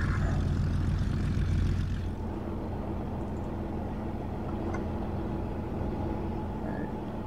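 An Fw-190 D13 fighter in War Thunder sim mode runs its piston engine, giving a loud steady propeller drone that eases slightly after the first couple of seconds and then holds an even idle.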